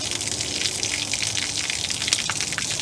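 Clean water drains steadily from the tank of a Warne chemical sprayer being emptied for winter, a continuous close rushing gush with no voices.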